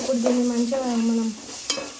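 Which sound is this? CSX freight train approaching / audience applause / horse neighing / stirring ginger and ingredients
stirring ginger and ingredients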